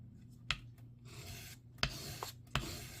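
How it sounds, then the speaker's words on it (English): A 400 grit sanding plate rubbing across a plastic part of a 1/48 scale Zaku II model kit, giving a soft, steady rasping scrape close up, with three sharp clicks as the plate is set down or lifted. "My 400 grit sanding plate is almost done here."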